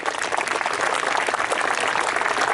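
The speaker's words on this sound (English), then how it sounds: "Give her a nice big clap" An audience claps steadily at an outdoor falconry display at a steam fair, a dense, continuous patter of many hands holding at even strength throughout.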